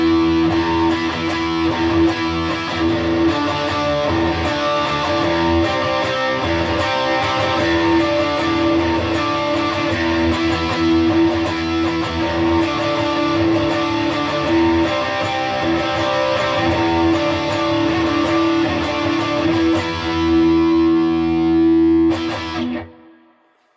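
Electric guitar chords through a Browne Amplification Protein dual overdrive pedal ring out loud and sustained for over twenty seconds, a thick, heavily distorted wall of sound that cuts off abruptly at the end.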